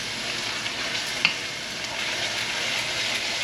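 Tomato paste sizzling steadily in a pot while being stirred for a Cuban chicken and potato stew, a constant close hissing fry with a faint scrape of the spoon partway through, no voices.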